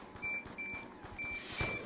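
iPod speaker dock stuck in alarm mode, giving repeated short electronic beeps in a steady pattern, faint and alone.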